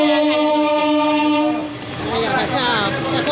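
A train at Chuchura railway station sounds a loud, sustained horn close by, which gives way to the rumbling, clattering roll of the cars.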